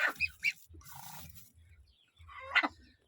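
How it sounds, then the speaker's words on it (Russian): A crested hen sitting in a nest gives several short, bright clucking calls close by, with low rustling and shuffling noises between the bursts. "а что це за курочка тут сидить в гнезде?"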